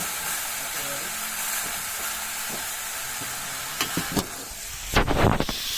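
Chopped onions fry in a pan for Maggi noodles at a mountain homestay in Uttarakhand, giving a steady hiss and sizzle throughout, with a few sharp clinks and a louder stirring scrape near the end.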